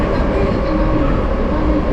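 A subway train arriving at a Moscow metro station, heard as a loud, steady low rumble that runs throughout without a break.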